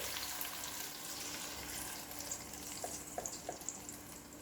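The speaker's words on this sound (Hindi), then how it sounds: "जार को धो के उसका पानी भी हम इसमें डाल देंगे।" Water from a rinsed jar is poured into a pan of cooking brinjal with ghee and masala, a soft continuous splashing pour over faint sizzling, with a few light clinks toward the end.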